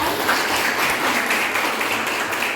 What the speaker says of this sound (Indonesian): Tepuk tangan untuk Bulan